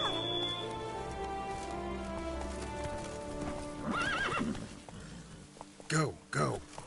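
Horse hooves clip-clopping along in the Witcher 3: Blood and Wine game world, with a whinny and snorting near the end, under game music and a voice.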